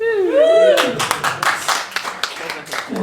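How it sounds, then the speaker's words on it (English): Audience clapping at a comedy club show, scattered hand claps breaking out after a held, sliding vocal tone and continuing unevenly to the end, with a voice over the top. "I think that's worth a bit of applause."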